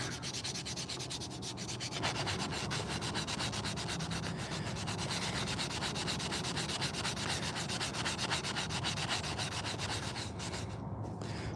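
Sandpaper rubs steadily over a hand-carved wooden spoon, a continuous close scratchy rasp with a regular back-and-forth rhythm, heard alone.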